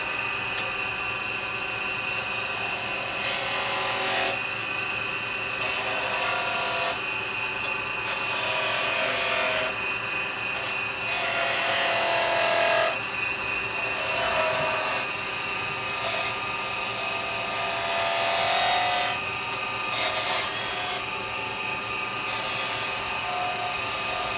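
Carbide detail chisel cutting a wooden Christmas nutcracker spinning on a lathe, a steady loud whirring, hissing drone that swells and eases as the tool engages, with no talk.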